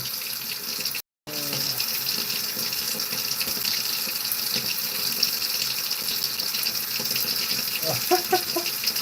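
Hands are washed under a running tap, with a loud, steady gush of water into a sink that cuts out for a moment near the start and then resumes. A few light knocks are heard toward the end.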